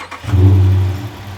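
A Dodge Charger's 5.7 V8 fitted with a JLT cold air intake fires up with a loud, deep rumble that swells and settles into a steady idle, close by, with no talking.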